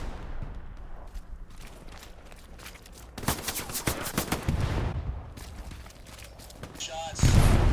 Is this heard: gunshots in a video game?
yes